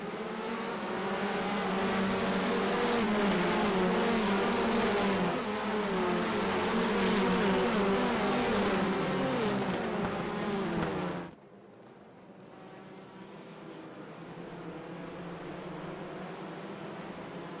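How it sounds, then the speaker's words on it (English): Race cars roar loudly together as the field takes the green flag at Daytona, a dense, sustained engine blare that drops abruptly to a quieter, more distant drone partway through. "Green is out at Daytona. Race number 3 is off and away."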